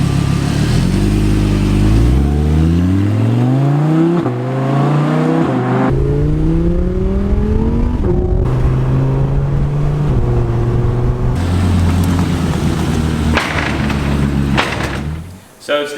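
A stock-exhaust Audi R8 V10 revs hard and continuously, the loud engine note climbing and falling through repeated gear sweeps with brief lifts between pulls, close and alone.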